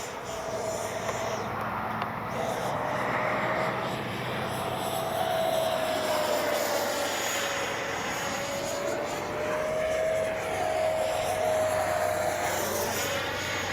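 An FMS 70mm Avanti S V3 electric ducted-fan RC jet flies past, its steady high whine rising and falling in pitch as it sweeps nearer and farther, loud and continuous with no talk.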